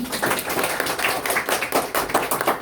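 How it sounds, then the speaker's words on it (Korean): Loud, energetic clapping from an audience at a Korean university-admissions humanities essay briefing, close and uneven with irregular bursts of hand claps and no talking. "박수 한번 세게 쳐보실까요?"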